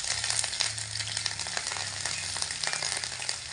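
Slit green chillies and grated ginger sizzle in hot oil, a close continuous crackling hiss with scattered small pops, steady throughout and free of speech.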